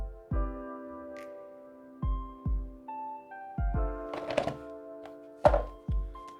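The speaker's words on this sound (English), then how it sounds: "Let's unbox it." A Moyu Aosu V7 speed cube is unboxed, with several sharp hollow thunks and clunks of cardboard packaging and plastic parts set down, plus brief rustling, close and clear with no talk.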